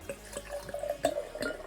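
Twisto Blue Mist lemonade poured into a glass, a short run of splashing drips and fizzy trickles, close and fairly quiet, with no voices.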